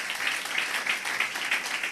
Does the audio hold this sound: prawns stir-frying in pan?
no